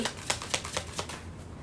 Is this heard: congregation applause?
no